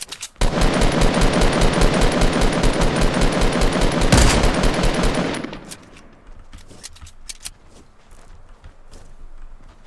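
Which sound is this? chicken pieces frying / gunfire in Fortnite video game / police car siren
gunfire in Fortnite video game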